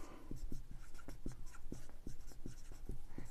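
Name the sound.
writing numbers by hand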